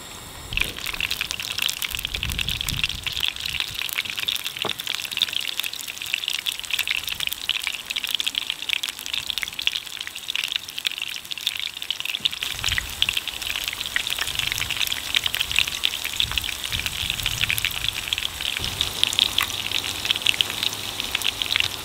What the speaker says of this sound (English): Let the sizzle begin.